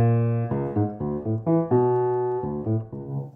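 A left-hand bass line over major seventh chord patterns is played in even straight eighths, a steady run of clear low notes in a quick, unswung rhythm with no talking.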